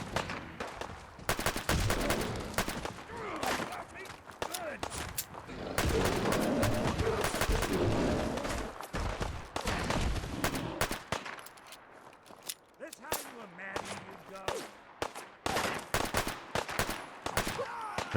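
Repeated automatic gunfire in Fallout 4, with heavy recoil, crackles in dense loud bursts and fusillades across the whole stretch, thinning into scattered shots near the end.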